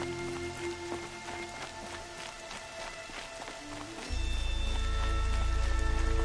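Rain falling in the video game Horizon Zero Dawn, a steady pattering hiss under a soft music tone, turning to a louder low rush partway through.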